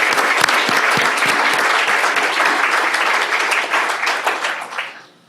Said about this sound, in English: I also would like to ask maybe one more round of applause for all of our students